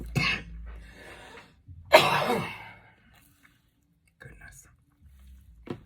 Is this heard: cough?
yes